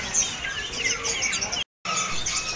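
Caged songbirds at Pramuka bird market in Jakarta keep up dense, overlapping high chirps and tweets, close and lively, with a brief dropout partway through.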